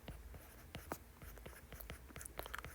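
Quiet, rapid pen or marker strokes scratch out a limit formula during a calculus lecture on limits and continuity. The short scratchy taps come in a busy, uneven rhythm, close by, with no talking.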